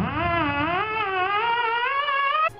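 A theremin plays a wavering, sliding tone that rises slowly with wide vibrato, alone and clear, in the eerie style of old horror film soundtracks, ending on a sharp click.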